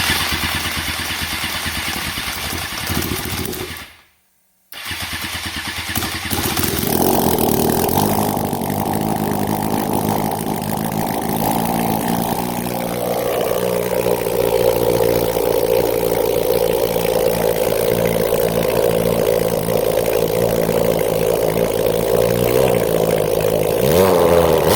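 Twin motorcycle engines mounted in a go-kart and fed by two fuel rails crank over, cut out briefly, then fire and settle into a loud, steady, buzzy idle with rising revs.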